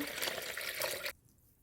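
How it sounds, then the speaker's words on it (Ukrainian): Warm water pours into a container over orchid roots, a soft, steady splashing rush that stops abruptly after about a second, leaving faint quiet. "Заливаю тепленькою водичкою."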